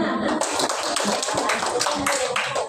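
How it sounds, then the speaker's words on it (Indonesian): An audience at a school principals' working group meeting claps steadily, with dense continuous applause close by, and a voice is faintly heard over it. "Saudari, aplaus dulu semua."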